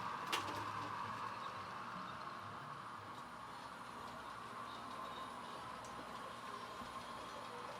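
A steady mechanical rumble and hum of an HO scale model train running along track, with a faint clicking at the start and no voices.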